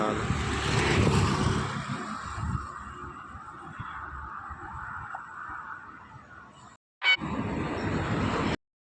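A distant airplane passing high overhead, a broad engine rumble that is strongest at first and then steadily fades away into the distance, ending in a short burst of outdoor noise.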